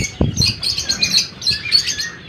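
Small lutino birds chirp in a lively, overlapping chatter of high tweets while being fed wheat grain, with a short low thud of feed landing at the start.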